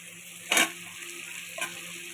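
Potatoes go into a hot pan, producing two short, sharp bursts of sizzling about a second apart over a faint steady hiss, close and without any talking.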